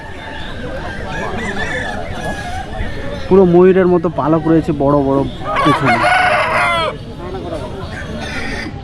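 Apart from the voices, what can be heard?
fighting rooster crowing at market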